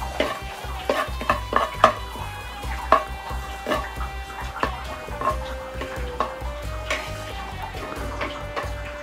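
A vegetable tagine is stirred in a pot over an open fire, with a spoon scraping and clinking against the pot in an uneven rhythm of close knocks and rattles over a soft fire crackle.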